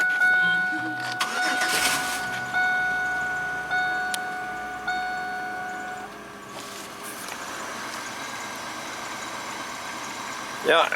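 Oldsmobile Silhouette van engine after a fuel pump replacement, cranking with rhythmic tonal chimes and clicks, then catching and settling into a steady idle, recorded up close.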